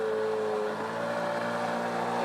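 Outboard engine on a Basstender 11.3 boat running in shallow water, a steady motor drone with a whining tone and a gurgling water-cooling noise, continuous and fairly close with no talking.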